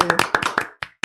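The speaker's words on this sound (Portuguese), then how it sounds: "uma salva de palmas" A few people clapping at a fourth-anniversary podcast celebration, a short burst of close, sharp hand claps that thins out into a couple of final claps, with no talking.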